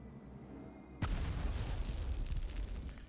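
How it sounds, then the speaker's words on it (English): Grenade in the Medal of Honor video game: a sudden heavy blast after a second of quiet hum, then a rumbling roar that tails off gradually, with no voices. "Let me try a grenade."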